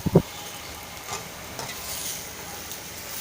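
A spoon stirs potato yellow sabji with freshly added coriander in a pan, giving a few brief scraping knocks at the start, then a soft, steady sizzle with faint scrapes beneath it.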